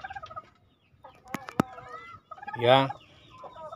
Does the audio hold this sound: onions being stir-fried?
no